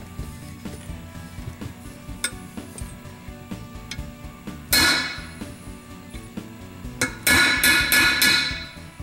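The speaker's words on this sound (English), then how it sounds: "I'm just trying to loosen the pin, so I'm listening for a change in the tone when I strike it." A hammer strikes a punch to loosen the front sight pin on an AR-15 front sight base. One sharp metallic strike rings out, then a quick run of several more blows, all close and crisp over a faint background.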